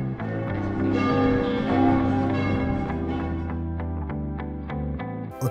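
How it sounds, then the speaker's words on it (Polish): Church bells ringing out loudly in a sustained, overlapping peal with rich lingering tones, heard alone without speech. "Niechaj biją dzwony."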